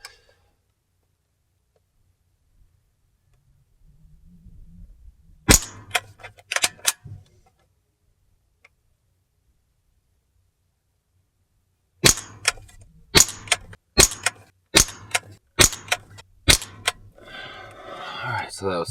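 Umarex Ruger 10/22 CO2 pellet rifle firing at 15 yards, sharp snapping shots, a few at first then a rapid run of about seven evenly spaced cracks, close and clear, with faint handling noise in between.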